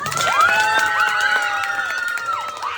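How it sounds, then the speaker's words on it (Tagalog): Cheering and excited shouts of children at a Cocomelon-themed birthday party, a loud continuous crowd din with rising and falling squeals and scattered claps. "palakpak para sa snake"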